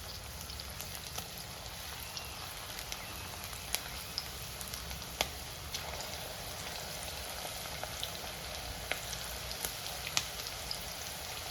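Continuous soft crackling sizzle of okra frying in hot oil, with scattered sharp pops throughout; fairly quiet and steady, no talking.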